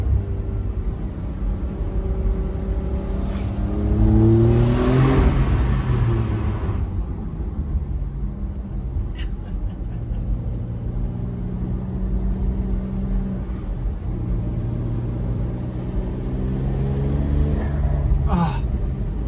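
A Porsche 992.2 Carrera Cabriolet engine rumbles and revs hard, rising in pitch through acceleration with blow-off valve chatter between gears, heard close and loud from inside the open car on a mountain pass road.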